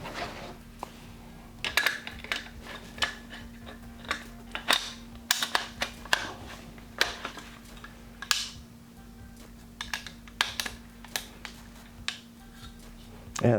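AR pistol parts are snapped back together by hand, giving scattered sharp metallic clicks and clacks at irregular intervals over a faint steady hum.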